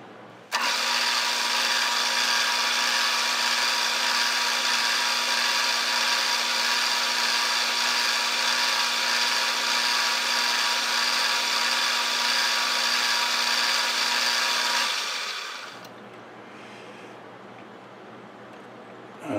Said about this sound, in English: Just finishing up the knurl on here.